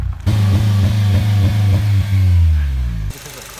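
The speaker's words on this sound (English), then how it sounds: "we let the engine warm up for a while, basically maybe 20 minutes or so" A Honda Civic Si FA5 engine idles during warm-up, a loud, close, steady hum with faint pulsing before it abruptly cuts off near the end.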